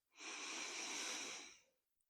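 A long, deep inhale drawn through the nose during a guided relaxation breathing exercise, a steady airy rush of about a second and a half, close and fairly loud, with no talking over it.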